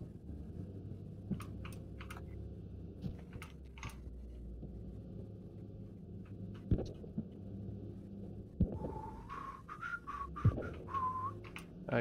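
A person whistles a few faltering notes late on, thin and breathy, beneath scattered clicks, taps and background noise from a Squad LAV gameplay session on the Nanisivik map.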